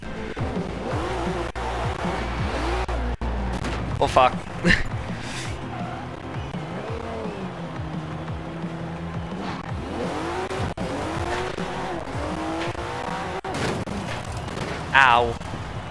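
Video game car in Forza Horizon 4 skidding and drifting, with engine roar under repeated sharp tire squeals, while a player occasionally exclaims over the game sound.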